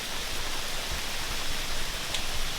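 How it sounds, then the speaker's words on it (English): Sleet falls outdoors during a heavy snowstorm, making a steady, dense hiss of pattering ice pellets that stays even and close throughout. "It's sleeting right now"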